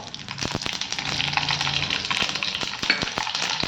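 Three spoons of mustard seeds crackling and sizzling in hot oil for Gujarati khandvi tempering, a dense close spatter of rapid pops running continuously.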